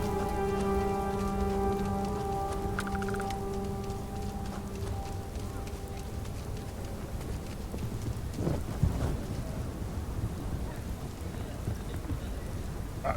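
Steady rain patters in the video game Starfield, set in New Atlantis, with a low thunder rumble rolling underneath. The downpour stays dense and constant throughout, and no one speaks.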